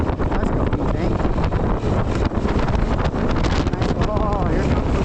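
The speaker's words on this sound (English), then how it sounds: "Oh, here comes the wind." Strong wind at an outdoor motocross track buffets the microphone in a loud, continuous roaring rumble with gusty surges, close and constant throughout.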